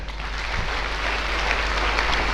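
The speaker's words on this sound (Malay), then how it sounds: "Satu tepukan." An audience at a motivational talk breaks into applause, a continuous even roar of many hands clapping at moderate loudness with no distinct individual claps.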